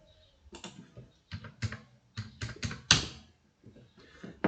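Someone types a password on a computer keyboard, nearby and alone, in irregular bursts of crisp key taps separated by short pauses.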